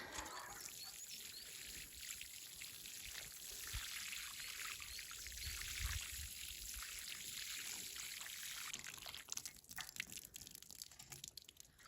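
Water pours softly and steadily for several seconds in a quiet setting, a gentle trickle that breaks into scattered splashes near the end.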